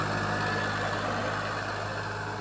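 A 39 HP New Holland 3037 tractor idles close by, its engine holding a steady, even low drone without change throughout.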